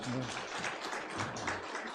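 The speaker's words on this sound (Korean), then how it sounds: "우리 박수로 축하하겠습니다" A church congregation claps together during a Sunday worship service, steady dense applause filling the room for a couple of seconds, with a voice briefly audible beneath it.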